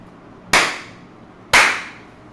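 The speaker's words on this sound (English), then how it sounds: "you can pick up the noise of the clap" Two sharp, loud hand claps about a second apart, each a crisp broadband crack with a short decaying tail, close to the microphone with quiet room noise between.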